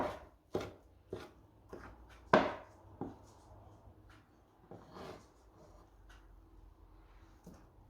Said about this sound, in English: we're just going to chop that finely